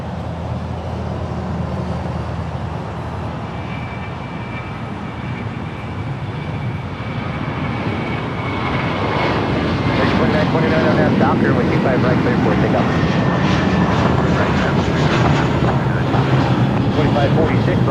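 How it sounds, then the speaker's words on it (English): A Boeing 747-400 freighter arriving from Anchorage at Los Angeles International Airport: a distant jet roar grows steadily louder, with a voice speaking over it throughout. "It's a giant 8365 in from Anchorage, Boeing 747-400 freighter."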